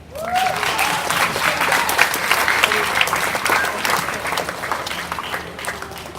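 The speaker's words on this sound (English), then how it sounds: "So I'd like to give a round of applause specifically to Mr. Johnny and Mr. Wong." An audience at an athletics banquet applauds, a dense, sustained burst of clapping from a full room that swells quickly and holds steady before tapering slightly.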